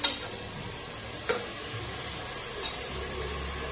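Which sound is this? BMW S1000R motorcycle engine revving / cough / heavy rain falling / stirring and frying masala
stirring and frying masala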